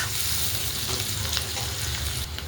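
Onion and curry leaves fry in hot oil in a pan for a brinjal vegetable dish, giving a loud, close, continuous sizzle with a few stirring sounds and no talking.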